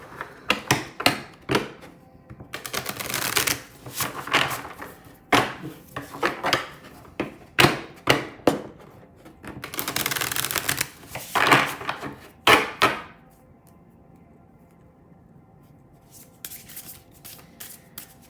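A deck of art oracle cards being shuffled by hand, with repeated loud, close riffles and slaps in uneven bursts for about thirteen seconds before the shuffling eases to a few faint card taps.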